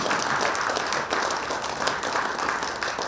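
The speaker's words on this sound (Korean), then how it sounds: "네, 큰 박수." Dense, steady applause from a large audience at a school centennial commemoration event, filling the moment loudly and evenly before cutting off abruptly at the end.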